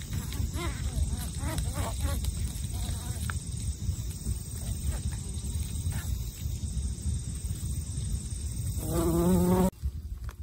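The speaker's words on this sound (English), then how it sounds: "even a little sonication, she manages to dive into the gentian and get her rewards" A bee buzzes close by in short bursts while sonicating a gentian flower, over a steady background hiss, ending with a louder, higher buzzing burst.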